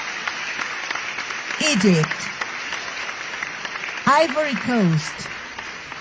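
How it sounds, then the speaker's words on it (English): An audience at a Model UN assembly claps to welcome the delegations, a steady patter of applause running under a speaker who reads out names. "Please welcome and applaud the delegations of"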